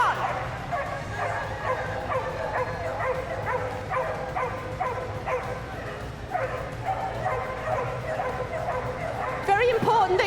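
Several dogs bark and yip excitedly at the start of a Crufts canine cross country display, with dense overlapping barks and whimpers throughout and voices talking underneath.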